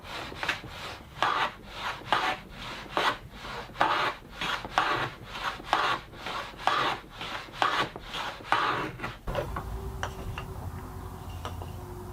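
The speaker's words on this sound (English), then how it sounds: "I'm using my shooting board to square up the pieces and remove any of the marks left by the bandsaw" A hand plane runs along a shooting board, squaring padauk guitar pieces and cleaning off bandsaw marks, in a steady series of about a dozen rhythmic, close rasping strokes, then stops and leaves quiet room noise.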